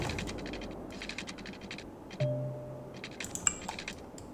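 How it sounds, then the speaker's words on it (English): A brief iPhone alert chime rings out over steady computer keyboard typing and mouse clicks at a desk, a short tone partway through and a small high blip near the end. "That was a sound of my iPhone."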